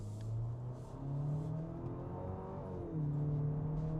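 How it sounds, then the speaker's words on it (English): A 2025 Nissan Murano pulls away after starting, its engine note steady and rising in pitch as it accelerates, heard from inside the cabin with no talking. "Hit that D for drive on the push button gear selector, and off we go."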